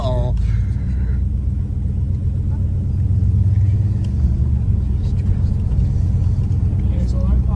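A 1973 Dodge Charger rolls slowly over a pothole-filled road at low speed, its engine giving a steady low rumble throughout while people talk inside the car.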